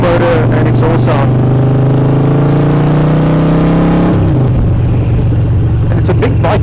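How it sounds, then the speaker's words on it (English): A 2013 Harley-Davidson 1200 Sportster motorcycle's engine and exhaust rumble loudly and close, a deep steady drone whose pitch climbs as it revs, then drops and settles, with some talk over it. "Purely for the motor and exhaust sound."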